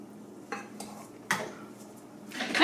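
A metal spoon scrapes cookie dough off against a bowl, giving a few soft clinks and scrapes, faint and close, with no talk.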